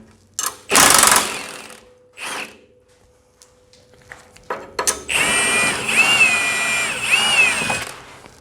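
Power tools working on the 17mm lower shock fork bolt of a 1997-2001 Honda CR-V during front lower control arm replacement: short loud bursts early, then a sustained whirring drive of several seconds, close by.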